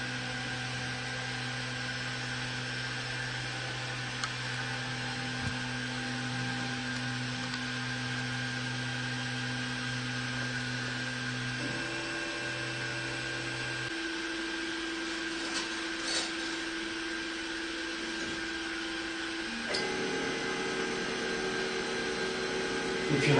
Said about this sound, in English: We're going to start printing.